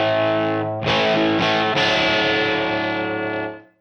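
Heavily distorted electric guitar chords through a Marshall Plexi 1987X amplifier ring out loud and sustained, struck three times with a brief gap before the first, then fading at the end.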